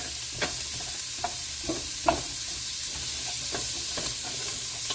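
Onions for a chicken pot pie cook slowly in a pan over medium-low heat, giving a steady soft sizzle with scattered clicks and scrapes as they are stirred, close and fairly quiet, with no voices.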